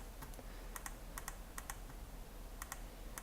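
Light plastic clicks from a computer mouse during photo editing, arriving in quick doubled pairs at irregular intervals over a steady low hum, close and crisp.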